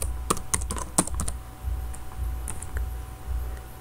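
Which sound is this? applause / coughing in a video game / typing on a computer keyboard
typing on a computer keyboard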